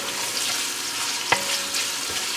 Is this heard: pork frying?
yes